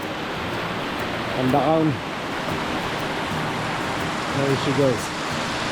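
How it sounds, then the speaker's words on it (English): Mountain creek along a trail on Cheam Mountain, a steady, close, broadband rush of flowing water throughout, with someone talking briefly over it twice. "Creek flowing down very nicely from here"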